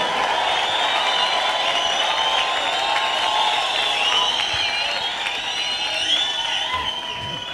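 A church congregation ululates, shouts and whistles in praise, forming a loud, continuous, dense wash of high trilling voices that holds steady throughout.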